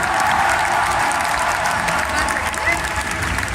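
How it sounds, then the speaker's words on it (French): Loud, dense audience applause at a convention stage show for a game contest, steady clapping from a packed crowd with light cheering, voices mixed in underneath. "Applaudissements."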